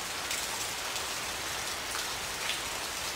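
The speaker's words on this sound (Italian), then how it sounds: "Passiamo alla pioggia," Steady rain falling on a surface, a natural recording used for tinnitus relief, with a dense, even hiss of raindrops that holds constant and alone throughout.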